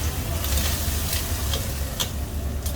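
Tomato, sweet paprika and oil being stirred in a paella pan make a steady close sizzle, with light scraping clicks from the stirring.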